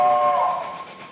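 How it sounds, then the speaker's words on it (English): A steam locomotive whistle sounds on the Cannonball train: one sustained, fairly loud tonal blast that fades away over about a second, with no talking. "Say, would you like to blow the whistle?"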